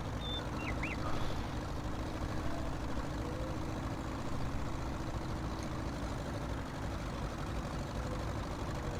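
A tractor engine idles in a farming simulator game, a low, steady diesel drone running evenly and fairly quietly for the whole stretch, with no voices.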